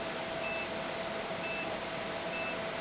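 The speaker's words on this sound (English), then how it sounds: "I don't know if you can hear that beep." A DJI Power 2000 portable power station overloaded about 200 watts past its 3,000-watt rating sounds a faint, short electronic warning beep once a second, three times, over a steady hum of background noise.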